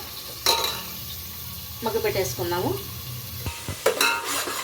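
A paste of tomato, green chilli and coriander fries in oil over a medium flame for chicken dum biryani, sizzling while a spoon scrapes and clacks against the pan, and someone speaks briefly.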